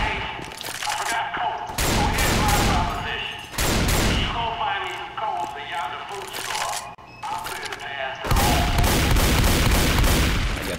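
Shotgun blasts in the zombie shooter game Left 4 Dead 2 come as loud, booming bursts separated by brief gaps, mixed with other gunfire and voices throughout.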